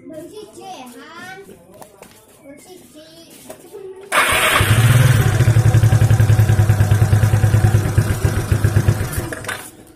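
A Suzuki Skywave scooter engine with a newly replaced centrifugal clutch kicks in after a few seconds of talk, then runs loud and steady at close range before easing off.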